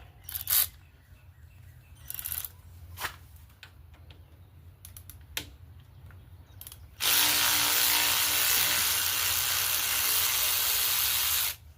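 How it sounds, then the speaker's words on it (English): An electric ratchet with a 3/8 socket works a bolt on a Poulan 12538 38-inch riding mower: a few scattered clicks and knocks, then a loud continuous whirring buzz lasting about four seconds before stopping. "I haven't used my electric ratchet in a minute."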